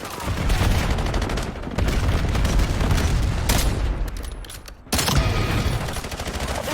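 Call of Duty Black Ops 7 multiplayer combat: dense rapid gunfire and bursts of automatic fire with a heavy boom from a precision missile strike, loud and continuous without a break.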